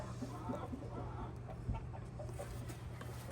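A docile backyard hen clucks softly and intermittently at close range over a steady low background hum, with one brief thump partway through and no talking.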